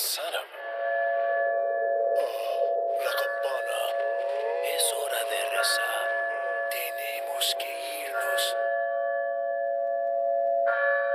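A church bell rings repeatedly in the village of the video game Resident Evil 4, sustained tonal peals with shimmering overtones, fairly loud and alone, with brief breaks between strokes.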